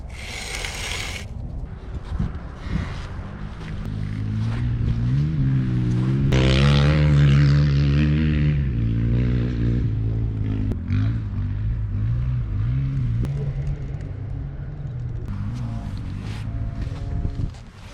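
A dirt bike motorcycle rides through sand, its engine droning close and loud, revving up and down in pitch throughout.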